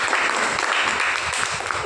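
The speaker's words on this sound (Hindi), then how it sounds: "एक जोरदार तालियों में" Audience applause at a talk on DXN, dense steady clapping from a crowd filling the whole stretch, fairly loud and even throughout, with no voice over it.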